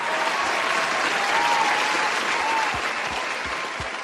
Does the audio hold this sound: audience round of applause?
yes